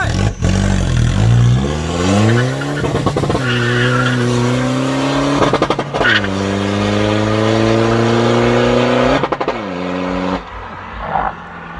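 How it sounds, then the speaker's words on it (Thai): An Isuzu D-Max diesel pickup with remapped GTX injectors accelerates hard from a standstill, loud engine pitch climbing through several gears with brief dips at each shift, then easing off near the end. "เดี๋ยวลองวิ่งกันดูครับเบรกมือลง ใส่กันหนึ่งพร้อมแล้วไป"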